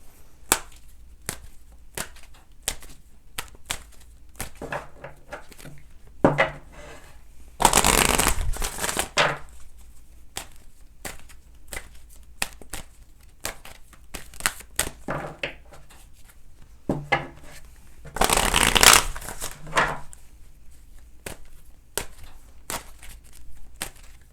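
Tarot cards are shuffled in two quick riffling bursts, separated by scattered soft taps and handling sounds of the deck on a table.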